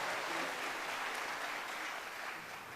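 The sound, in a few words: applause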